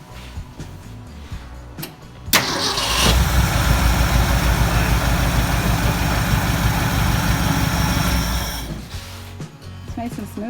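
A 1971 Ford farm find, parked for 34 years, fires up on the key without throttle and runs with a loud, steady idle for about six seconds before dropping away, with voices around it.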